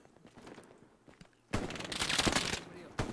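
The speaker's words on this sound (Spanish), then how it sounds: "Tiros de aquí, Enzo, cuidado" Gunfire in the Hell Let Loose shooter, a dense burst of automatic fire that erupts loudly midway after quieter scattered shots, with some voice chat faintly underneath.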